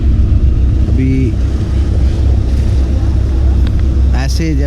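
Boats motoring along a Venice canal, a loud steady engine drone with water noise up close, while someone talks over it and brief horn-like tones sound near the end.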